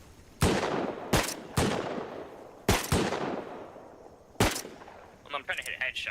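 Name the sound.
revolver gunshots in the video game Rust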